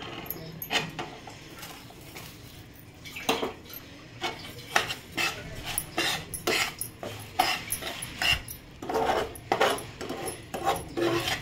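Sugar being stirred into roasted gram flour in a metal pan for besan modak, giving repeated scraping, rasping strokes of a spoon against the pan in an irregular rhythm, close and fairly loud with no talk.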